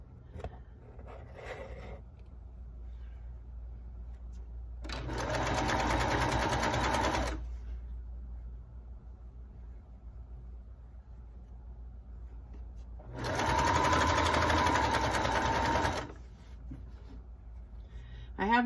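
A sewing machine stitches a travel pillow case in two bursts of about two to three seconds each, a close mechanical whir separated by quiet pauses.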